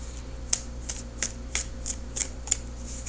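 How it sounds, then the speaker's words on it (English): Tarot cards being shuffled by hand, a quiet run of about seven crisp riffling snaps at a steady rhythm, close up with no talking. "shuffling for the outcome card"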